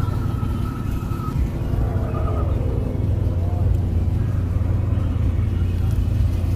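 Drifting cars at the SEMA 2016 show roar as a steady, loud engine rumble with rising revs, continuous through the stretch with a crowd murmur beneath.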